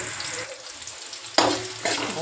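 Onion tempering in hot oil for a bottle gourd and potato pav bhaji, a quiet sizzle that bursts into loud crackling frying partway through and surges again near the end, close by.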